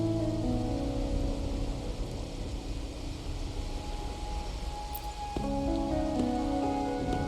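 Steady rain in the video game Wuthering Waves hisses over a low, sustained musical drone, constant and moderately loud with no voices.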